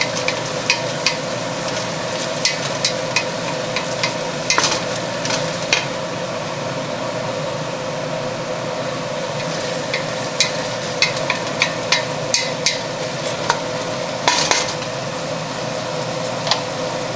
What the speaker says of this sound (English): the onions are nicely browning up here